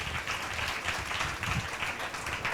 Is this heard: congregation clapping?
yes